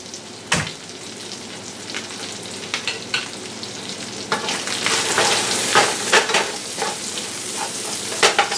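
Beef with rosemary and thyme frying in a pan, a close sizzle broken by repeated scraping and clacking strokes of stirring that grow busier toward the end, with no voices.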